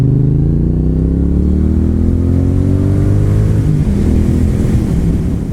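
A 2019 Triumph Street Twin motorcycle engine climbs steadily in revs under a loud, close exhaust note, then shifts and settles, with wind rush and no talking.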